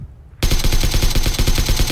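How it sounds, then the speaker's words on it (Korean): A sudden burst of rapid automatic gunfire in PUBG on the Miramar desert map, starting abruptly after a quiet moment and continuing as a loud, fast stream of closely spaced shots. "카오페 총소리 바뀌었냐? 이상한데?"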